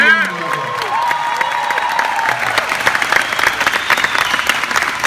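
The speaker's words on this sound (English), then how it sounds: "Give yourselves a round of applause and your dream a round of applause." Seminar audience at a motivational speaking event bursting into loud applause and cheering, sustained clapping with whoops filling the room throughout.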